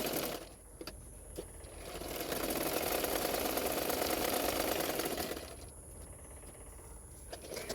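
A sewing machine runs stitching around the edges of padded blouse fabric, a steady mechanical whir that swells for a few seconds in the middle of the clip, with quieter handling and machine noise before and after.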